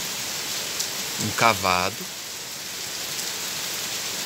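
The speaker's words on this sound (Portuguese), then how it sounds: "finalmente está chovendo" Heavy rain pours down at night in Porto Alegre, a steady, dense hiss throughout, with a person speaking briefly over it.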